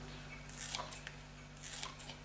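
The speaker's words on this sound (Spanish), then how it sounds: "Lo podemos cortar bien con cuchillo o bien con tijeras." Scissors snip through a drained aloe vera leaf, cutting it into pieces with soft crunchy, squishy clips, faint and close over a steady low hum.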